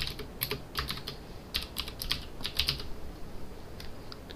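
Typing on a computer keyboard to enter text onto a photograph, with bursts of close, quick key clicks in uneven runs and short pauses throughout.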